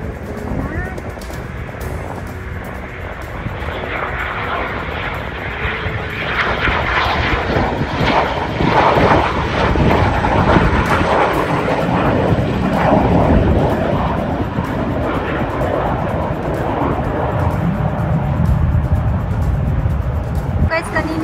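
Airplane taking off or landing at an airport, a broad continuous engine roar that swells slightly and holds steady for the whole stretch, loud and fairly near, with faint voices in the background.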